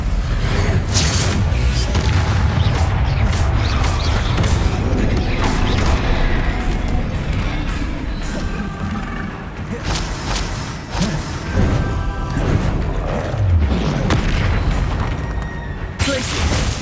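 Confringo blasting spells explode again and again in Hogwarts Legacy combat, a loud, dense stream of booms and crashes over busy game sound and voices.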